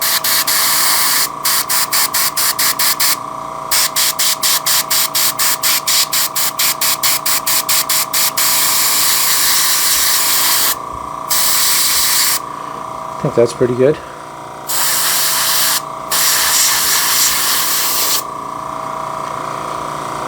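Airbrush spraying weathering paint onto an N scale model locomotive, a hissing spray in repeated bursts and rapid pulses with brief pauses, close and loud, with someone briefly speaking midway.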